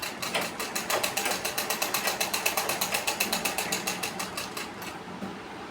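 Domestic sewing machine stitching fabric during a home tailoring session, running in a steady rapid rhythmic clatter of needle strokes, close and continuous for several seconds, with no voices over it.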